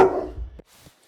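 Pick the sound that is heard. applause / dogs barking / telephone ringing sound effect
dogs barking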